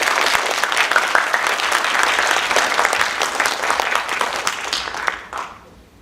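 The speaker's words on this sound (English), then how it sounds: "And give them a round of applause" An awards ceremony audience applauds students, a full, even wash of clapping that carries steadily for several seconds before fading out near the end.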